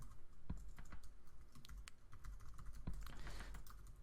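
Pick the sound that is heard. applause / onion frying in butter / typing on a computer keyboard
typing on a computer keyboard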